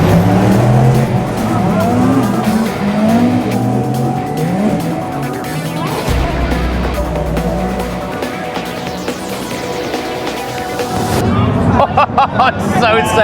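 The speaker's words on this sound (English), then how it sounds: "they're going to go through these Porsche curves here. And then you should be able to hear them all absolutely drop it." Race cars roar through the Porsche curves at a 24-hour race. Loud, dense engine noise sweeps past continuously with squealing tyres, while spectators chatter under the din.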